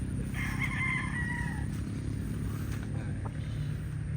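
A black rooster crows once early on among a flock of chickens, moderately close, over a steady wash of background noise, likely rain.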